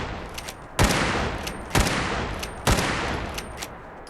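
Three loud, close gunshots from a trail carbine in the Fallout 4 Mojave mod ring out at roughly one-second intervals, each one a sharp crack trailing into a decaying echo.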